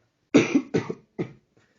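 Three close, harsh coughs in quick succession, the first a double burst, then quiet.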